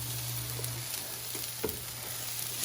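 Peppers and scallions fry in a pan with a steady close sizzle, with a few soft clinks and stirring scrapes now and then.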